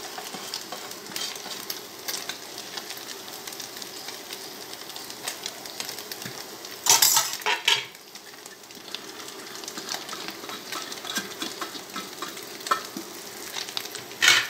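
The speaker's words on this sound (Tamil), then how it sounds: "இதெல்லாம் கொஞ்சம் ஹை ஃப்ளேமில் வறுத்துக்கலாம்" Cabbage, capsicum, carrot and beans crackle and sizzle steadily in a pan on high flame for egg fried rice, with a couple of sharper bursts of stirring midway.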